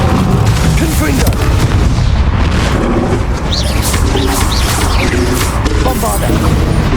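Spell blasts burst one after another in a Hogwarts Legacy final boss fight, heavy booming impacts and crackling debris layered over dense, loud game music and effects.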